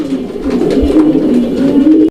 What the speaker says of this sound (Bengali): এইটা হচ্ছে লেটন কবুতর একটা জোড়া দর্শক ইন্ডিয়ান লেটন